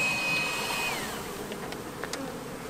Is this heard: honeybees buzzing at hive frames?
yes